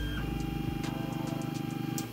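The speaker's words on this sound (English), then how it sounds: "you just heard it auto home" An Ender 3 Pro 3D printer auto homes with a loud, steady whirring buzz from its stepper motors. The motors pulse in a fast rhythm, the pitch shifts as the axes move, and faint ticks sound before it winds down.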